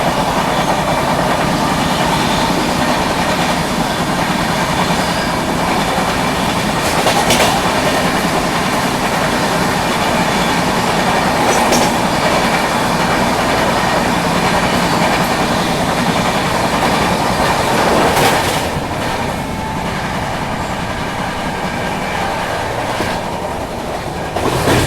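Shree Shakti AC Express rolling at speed past the Jhelum Express, a loud continuous rumble with rhythmic clickety-clack of wheels, occasional sharp rail knocks and a brief whoosh as the other train passes.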